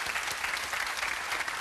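A studio audience applauds quiz contestants, a dense, even burst of clapping that holds steady and close throughout the short stretch.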